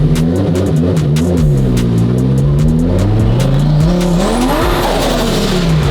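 A twin-turbo V10 Lamborghini supercar engine revs hard and rises and falls in pitch, with tires squealing near the end. The sound is loud and close, and nobody speaks.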